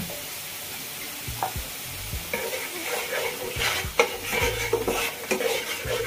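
Red chili powder, coriander powder and salt are stirred into a sizzling pan while cooking mustard hilsa, with repeated close spatula scrapes and light metallic clinks over a steady fry.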